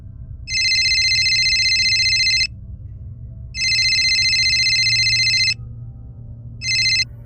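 A telephone rings in bright electronic bursts, two long trilling rings separated by a pause, then a short third one cut off, over a low hum.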